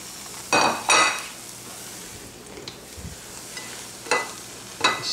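Microwaved potatoes tipped into a hot pan of nearly cooked eggs, giving two loud sizzling bursts early on and two shorter hisses near the end, with quieter frying in between.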